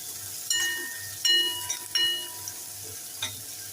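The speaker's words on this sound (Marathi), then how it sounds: "छान परतून घेऊया." Chopped onion with salt sautéing in a pan for moong dal and rice khichdi: a low, steady sizzle broken by several sharp scraping stir strokes, close and without talk.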